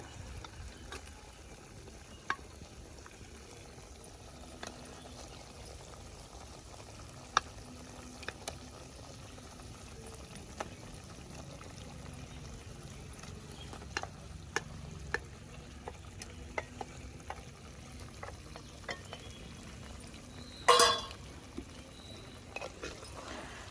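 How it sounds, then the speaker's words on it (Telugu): Fish curry being stirred in a pan on the stove, a soft continuous cooking sizzle with scattered clinks and scrapes of the spoon and one sharper clatter near the end, no talk. "మిక్స్ చేసేసుకుని కాసేపు మగ్గించుకోవాలి"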